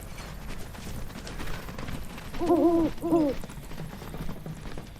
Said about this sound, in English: Why does the bird sound like an owl?